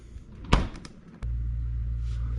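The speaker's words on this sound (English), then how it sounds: "I'm gonna close the door and see if the fan engages" A Samsung refrigerator door closes with a firm thump and a couple of clicks, then a steady low hum rises as the cooling starts.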